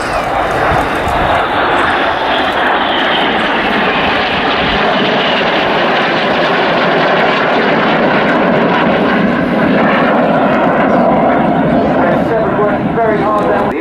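RAF Red Arrows jets roar overhead at RAF Waddington as they fly a corkscrew formation, a loud continuous engine rush filling the whole stretch while a commentator talks over it.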